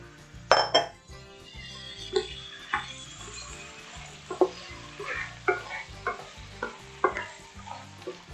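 Washed borlotti beans tumble into a pot of softened fried onions, followed by repeated clinks of a spoon against the pot and stirring over a gentle sizzle, close and fairly quiet.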